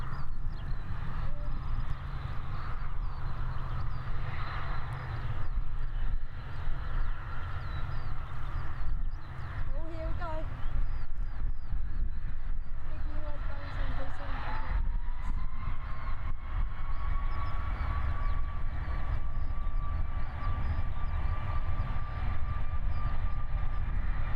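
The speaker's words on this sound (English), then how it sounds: "And a perfect takeoff is about to occur." A Fiji Airways Boeing 737 taking off at Christchurch airport, a constant loud roar of engine thrust rising as it powers down the runway, with a faint rising whine later on.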